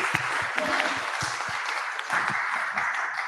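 Audience applause at a business event on inclusive employment, a dense burst of many hands clapping nearby, lasting several seconds and fairly loud, with a little voice murmuring underneath.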